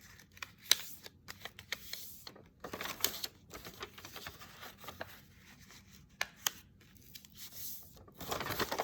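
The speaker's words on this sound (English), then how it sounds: "So we're just gonna fold every which way." A paper square folded into a 4x4 grid, with close, faint crinkling, creasing and rubbing in scattered bursts and no talk.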